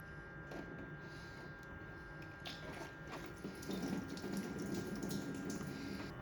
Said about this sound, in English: Now that we have a steady stream coming out of the upper radiator hose hole